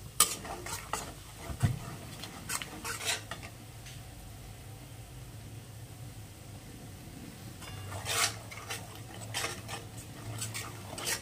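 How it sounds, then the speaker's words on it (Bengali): A spoon scrapes and stirs through spiced vegetarian bhuna khichuri with cumin and coriander powder in a pot, making intermittent close clattering scrapes over a soft background sizzle. "একটু নাড়াচাড়া করবো"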